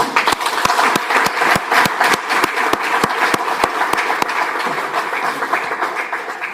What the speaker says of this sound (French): J'aurais voulu qu'on commence par applaudir très fort toutes nos mamans